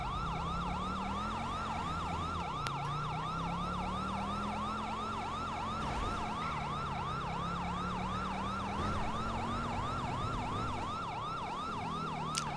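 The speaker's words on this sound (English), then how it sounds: "I actually put in a new mod so these cars can actually yield to my sirens now" A police car siren wails in GTA V with the LSPDFR mod while patrolling the city in a Tahoe, a continuous fast yelp cycling steadily over a low engine drone, loud and unbroken.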